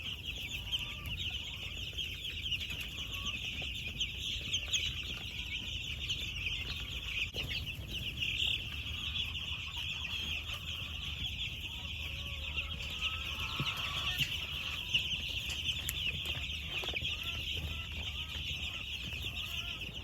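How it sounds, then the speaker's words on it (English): Hundreds of baby chicks in a brooder, about 300 of them, cheeping and clucking continuously in a dense, steady chorus at low level, with faint rustling and flapping throughout. "this one is full of 300 baby chicks"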